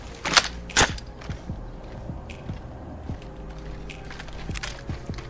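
Gunfire rattles in an Apex Legends match on PS5, with a couple of sharp louder shots early followed by a string of lighter, distant-sounding pops over steady game ambience.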